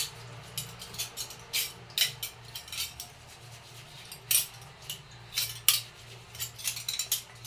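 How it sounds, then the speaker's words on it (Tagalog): Spoons and plates being washed, with scattered metallic clinks and scrapes of cutlery knocking together in irregular bursts over a quiet background hum, close by and with no voices. "Maghuhugas muna ako ng mga kutsara, mga pinggan."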